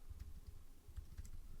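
Quiet, steady tapping on a computer keyboard as keywords are typed into a search box, a soft run of key clicks with a slightly irregular rhythm and no talking.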